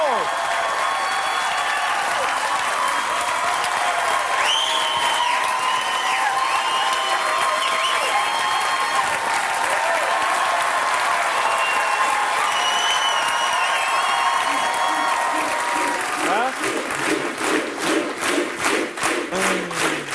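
A studio audience gives a standing ovation on a French-language TV comedy show, with dense sustained applause and cheering that fills the room for the whole stretch, rising into sharper rhythmic clapping near the end; voices mix in over it.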